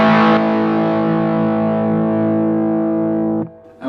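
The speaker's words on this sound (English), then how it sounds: "you get a volume boost because the boost pedal is after the overdrive section of my pedal board" A single electric guitar chord through overdrive followed by a NUX Boostcore boost pedal rings out loud and sustained for over three seconds before being cut short.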